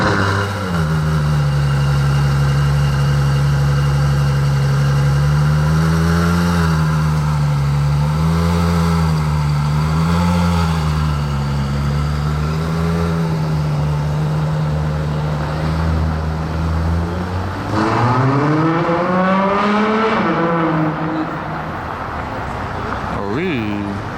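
Car engine, an open Spider sports car in sunny Paris, turns over and idles loudly, then revs in rising and falling surges, with a harder rev near the end; someone talks over the engine.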